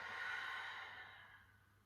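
Soft, steady breathing through the nose during a gentle home yoga session practicing alternate nostril breathing, a single long airy exhale that fades slowly, close and quiet.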